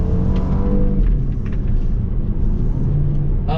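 A 2020 Volvo V60 T6 Momentum wagon with a supercharged and turbocharged engine and 8-speed transmission accelerates hard through turns, a loud, close, steady engine rumble and whir from inside the car with no voices.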